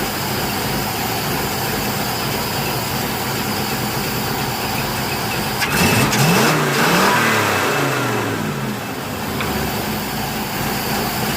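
A 62-year-old carbureted engine runs steadily, then is revved and bogs down under too much air, the pitch sagging and wavering before it settles back without stalling; loud, close and continuous.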